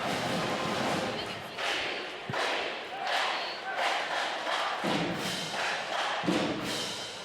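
A Rebels home crowd at a boys high school basketball game cheering and shouting during halftime, a loud steady roar of voices in the gym, with the school band on hand, rising and falling in waves.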